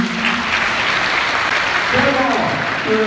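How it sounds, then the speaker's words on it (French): Conference audience applauding at an evening event in Ouagadougou, a steady, dense wash of clapping filling the whole stretch with a voice speaking faintly over it. "Et je vais vous demander d'applaudir pour Hervé Ouattara"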